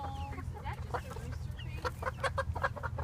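Backyard chickens, including Ameraucanas, Barred Rocks and Orpingtons, cluck in a run of short, overlapping calls close by, with a steady low rumble of background noise beneath them.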